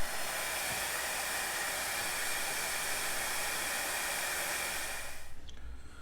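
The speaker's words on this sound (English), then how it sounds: "I'm going to warm up this casting with the wife's old hair dryer" An old hair dryer blows hot air onto a bandsaw casting, giving a steady loud whooshing roar that cuts off sharply near the end.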